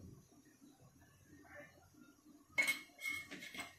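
Pav bhaji being stirred in a pan makes soft scraping, then sharp metallic clinks and clatters of a spoon against the pan toward the end, close and fairly quiet.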